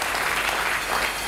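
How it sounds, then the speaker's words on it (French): A church congregation applauding, with a dense, steady burst of clapping that fills the whole short moment at close range. "Acclamons très fort."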